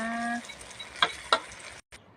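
Egg being stir-fried in a pan, with a steady soft sizzle and two sharp scraping clinks of a utensil against the pan, close up, before a brief dropout.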